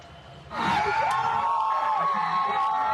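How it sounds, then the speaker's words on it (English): A crowd cheers and whoops loudly in an outdoor gathering after news that the Supreme Court overturned Roe v. Wade, the noise rising suddenly and holding steady with scattered voices and shouts. "When the crowd heard the court had overturned Roe versus Wade, there were cheers."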